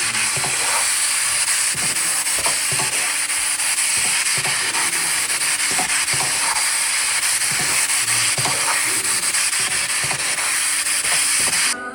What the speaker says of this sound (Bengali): তারপর সিদ্ধ হয়ে নেওয়া ব্রোকলিগুলা দিয়ে দিলাম, দিয়ে আবার নাড়াচাড়া করতে থাকলাম।